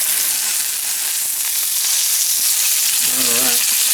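Butter, onions and garlic sizzle steadily in a pan of yellow morel mushrooms and shallots, a loud, close, continuous frying hiss with a brief low rumble near the end.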